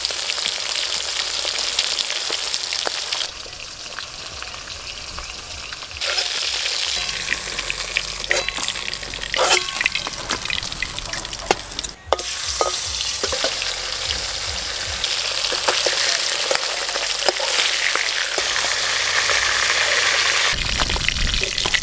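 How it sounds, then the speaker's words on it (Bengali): Rupchand fish of about 2 kg frying in the oil released from its own flesh: a loud, continuous sizzle and crackle with occasional sharp clatters of a utensil in the pan. "এই তেলেই মাছ ভাজা হয়ে যাবে"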